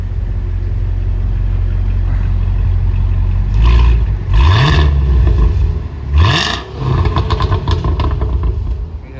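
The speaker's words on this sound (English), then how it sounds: "I'll give it one more rev" A Cadillac CT5 Blackwing with a supercharged V8 revs hard, with several loud surging blips over a deep, steady idle rumble, close by and dominating.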